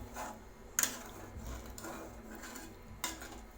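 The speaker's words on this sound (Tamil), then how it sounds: "இது ஒரு டைம் நல்லா மிக்ஸ் பண்ணி விட்டுருங்க." Brinjal gravy being stirred in a cooking pot after half a cup of water is added, with a few sharp clinks of a spoon against the pot rim over soft scraping and a low background hum.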